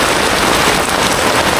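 Heavy rain falls steadily, a close, even wash of patter on surfaces with no talking.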